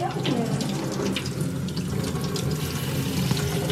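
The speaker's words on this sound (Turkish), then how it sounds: "Bir musluğu kapat istersen." Kitchen tap water runs steadily into a sink while strawberries are washed, a continuous close splashing hiss that lasts throughout with no talk over it.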